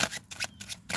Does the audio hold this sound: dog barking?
no